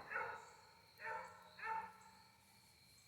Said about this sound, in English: Hear the dogs barking.